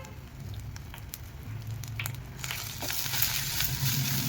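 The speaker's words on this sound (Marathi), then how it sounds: "याला चांगला म्हणजे मसाला सुट्टा होईपर्यंत परतून घेऊया आपण." Spice masala with turmeric, garam masala and coriander powder fries in a pan with a steady, moderate sizzle. Faint stirring scrapes run through it, and the sizzle grows brighter and louder toward the end.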